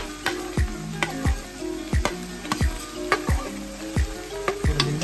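Cut ridge gourd pieces fry in a pan, a loud continuous sizzle broken by sharp, regular knocks and scrapes of stirring against the metal, with no voices.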